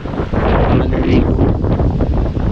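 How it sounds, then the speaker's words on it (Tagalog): Strong wind roars across the microphone on a beach by the open sea, with waves crashing beneath it in a loud, continuous rush. "Sobrang lakas mga katakbo ngayon talaga ng alon, no, saka hangin"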